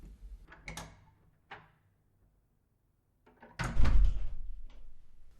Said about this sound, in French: ouvre la porte sans difficulté et rentre dans l'appartement